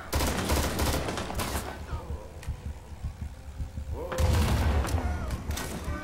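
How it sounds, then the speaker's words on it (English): Enemy gunfire in the Vietnam war shooter Rising Storm 2 in Hue City: rapid bursts of rifle and machine-gun shots, some distant and muffled, with a lull before a loud renewed barrage. "I can only hear their shots."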